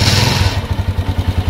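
A motorcycle engine, just repaired with a new carburetor, fires up and settles into a steady, pulsing idle. It runs loud and close, with a mechanical clatter and no talk.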